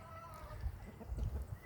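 Hens and a rooster cluck and murmur softly on a small farm with chickens and rabbits, a low, irregular chatter of short calls close by with faint background noise.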